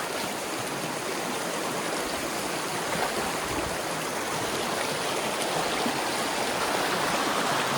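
Water flows steadily in a small Appalachian creek, a continuous broad rushing and burbling from close by that holds even throughout, with no voices.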